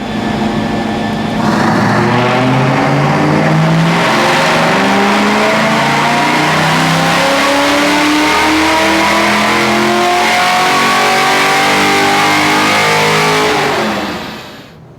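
A modified 1995 Ford Mustang GT V8 revs hard on a chassis dyno, climbing through several loud rising pulls that whine upward, then dropping away as the throttle closes near the end.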